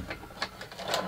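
The feeder mechanism of a homemade playing card gun whirs and clatters in short uneven mechanical bursts, close by and fairly quiet, with no talking.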